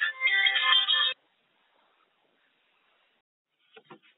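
A phone rings briefly for an incoming work call, a loud harmonic tone lasting about a second, followed by silence and a couple of faint short blips near the end.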